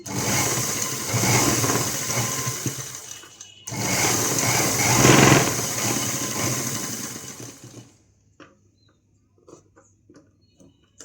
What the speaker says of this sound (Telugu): ఇలాగే డబుల్ కుట్టు వేసుకుంటున్నాను